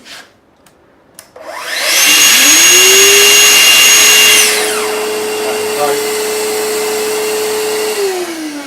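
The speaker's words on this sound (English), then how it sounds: "if we switch the extractor on" Festool CT Midi dust extractor with Bluetooth switching on beside a cordless plunge saw, its motor rising into a loud whining roar that eases to a steady, slightly lower hum for several seconds, close and with no talk.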